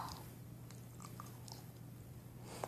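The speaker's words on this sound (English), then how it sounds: "I'm chewing gum right now." Soft, wet chewing of gum sounds close to the mouth, faint and irregular smacks and clicks over a low steady hum, with no voices.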